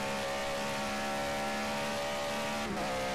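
A GT3 race car held at full throttle at Watkins Glen in the racing game Project CARS, a steady high-pitched engine drone with a brief shift near the end.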